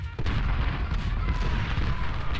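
Artillery cannon fire from a Civil War battle game with 12-pounder guns, heard as a dense, continuous rumble of overlapping booms and gunfire that stays loud and steady throughout.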